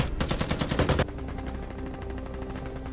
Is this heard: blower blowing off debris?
no